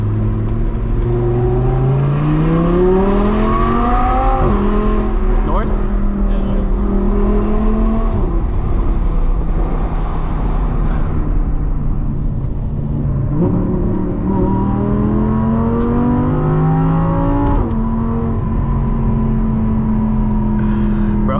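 An Audi R8 V10 with IPE exhaust screams through repeated hard accelerations at night, pitch climbing then dropping at each shift, loud, continuous and close with no talking.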